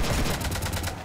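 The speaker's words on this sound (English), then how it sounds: "You want to stop shooting up my ship?" Rapid gunfire in a video game rattles on without a break, a loud fusillade of repeated shots aimed at a ship, with no talking over it.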